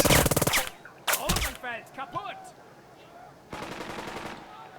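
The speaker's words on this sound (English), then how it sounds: "Now they're shooting at him, of course." Soldiers firing in the video game Burden of Command, with rapid machine-gun bursts and scattered shots, loud and close, separated by brief gaps and a longer burst at the end.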